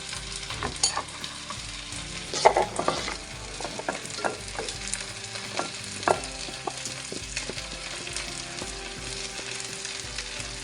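Sliced onions sizzle steadily in a cast-iron pot for rabbit legs, a dense continuous frying hiss broken by scattered crackles and a few louder stirring scrapes, close and with no talk.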